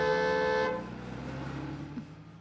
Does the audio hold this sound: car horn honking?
yes